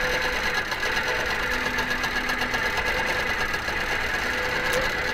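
A QBOT quilting machine stitches a large meander stippling design, giving a steady, continuous mechanical hum and whir with a faint rhythmic flutter, close and alone with no talking.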